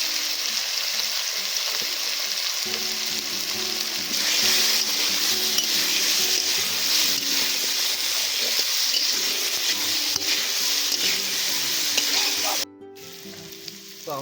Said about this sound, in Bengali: এবার এই আলুটার মধ্যে একটু হলুদ একটু নুন দিয়ে দেবো